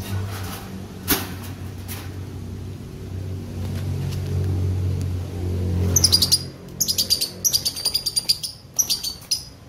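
Lovebirds in a cage chirp in quick bright bursts near the end, over a steady low rumble and a few earlier clicks.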